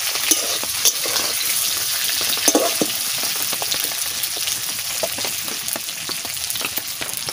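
Whole prawns fry in a hot pan for a potol and jhinga malai curry, giving a steady close sizzle broken by sharp crackles and occasional spoon scrapes, with no voices.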